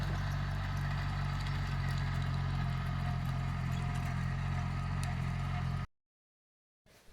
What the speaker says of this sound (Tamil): மினி டிராக்டர் ஓட்டிகிட்டு போகுது.